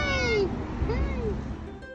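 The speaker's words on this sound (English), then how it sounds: "He was one of Rita's kittens." A young rescued kitten gives a couple of drawn-out meows, fairly close and clear over steady outdoor background noise, with quieter mewing trailing off afterward.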